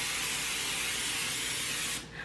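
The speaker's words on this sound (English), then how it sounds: "spray your pan. I just use this Great Value butter spray." Great Value butter cooking spray hisses steadily onto a pan in one continuous close burst of about two seconds before cutting off, with no talking.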